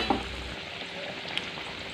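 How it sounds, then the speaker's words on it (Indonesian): Tempeh steak fries in a pan until golden, giving a soft, continuous sizzle with a couple of small pops, quiet and without talk. "Lalu kita goreng lagi sampai warnanya kuning keemasan juga seperti yang ini ya."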